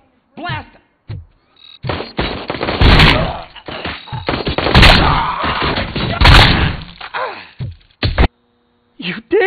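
Gunfire in the RoboCop Rogue City video game: loud, heavy bursts of shots and impacts that come in dense clusters over several seconds, mixed with game effects and brief voices.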